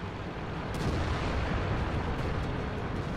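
An AMX CDC tank cannon in a tank video game booms amid a dense, continuous roar of battle noise, heavy and loud without distinct breaks.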